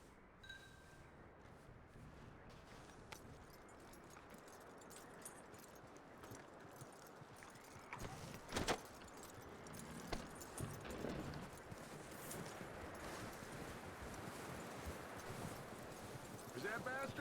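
Horse hooves clip-clop in Red Dead Redemption 2, a steady walking rhythm of light, fairly close steps under ambient game sound, with a brief louder knock midway.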